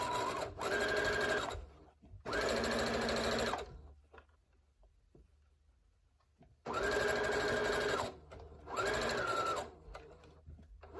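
A sewing machine stitches a quarter-inch seam on a fabric face mask in two pairs of loud, steady whirring bursts with short pauses between them and a longer silent gap in the middle, close and alone.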